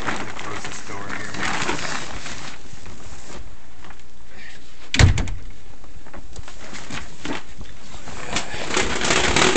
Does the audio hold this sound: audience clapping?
no